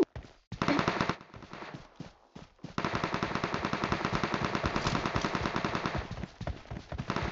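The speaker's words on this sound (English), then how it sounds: "Where are the shots coming from?" Automatic gunfire from PUBG Mobile, a mobile battle royale game, crackling in dense rapid bursts that start after a short gap and then run nearly continuously and loud, with no talk over them.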